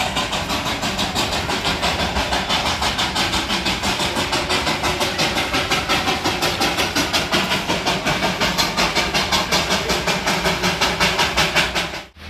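The Darjeeling train pulls out in the rain with a steady engine drone and a regular, rapid pulsing chug that repeats evenly close by, then cuts off abruptly at the end.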